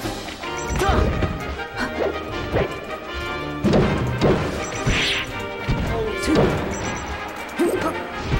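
In Super Smash Bros. Melee, a character slams into the stage during a Sheik versus Marth grand finals match, among repeated loud crashing impacts and thwacks over busy game sounds.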